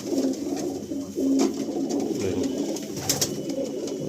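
Pigeons coo steadily in a breeding male section of a large loft, with overlapping low warbling calls close by and a brief louder burst partway through.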